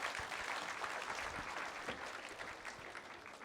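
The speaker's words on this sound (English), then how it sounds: "Give him a round of applause." An audience claps as a volunteer is called up on stage at a magic show during a literature festival, a steady, moderately distant round of applause with a few sharper individual claps standing out.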